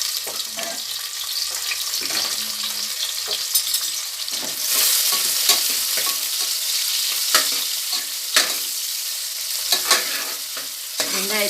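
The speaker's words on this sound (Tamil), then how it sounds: "வெங்காயத்தை நம்ம நல்லா வதக்கிக்குவோம்" Two chopped onions sizzle and fry in a hot pan while being stirred for a jeera samba mushroom biryani, a continuous close crackle broken by scraping stir strokes.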